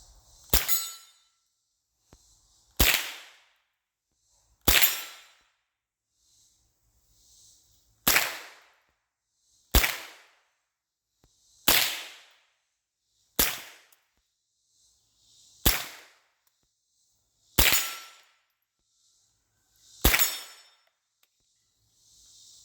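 Nine sharp rifle shots from an old, rusty $300 gun with fixed sights, fired outdoors at even intervals of a couple of seconds. Each loud crack rings off in a short decaying tail, with silence between shots.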